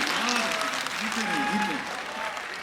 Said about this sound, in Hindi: एक बार बच्चे के लिए जोरदार तालियां बजा दीजिए, दोनों हाथ उठाकर।